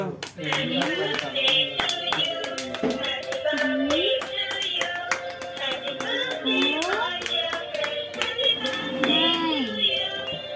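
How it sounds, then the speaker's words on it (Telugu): Rhythmic hand clapping at a family celebration of a baby boy's fifth month, steady and close, with a woman singing or chanting and children's voices running throughout. "చప్పట్లు."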